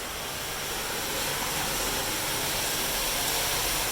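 Loud, continuous rushing water roars through a ravine drainage tunnel, a dense steady hiss and rumble filling the enclosed space, close and overwhelming with no speech.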